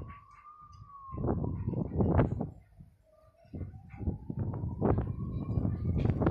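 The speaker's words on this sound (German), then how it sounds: "Krankenwagen hört sich genauso an wie ein amerikanischer Krankenwagen." A faint, distant ambulance siren wails in slow rising and falling sweeps, partly masked by louder bursts of nearby noise and movement.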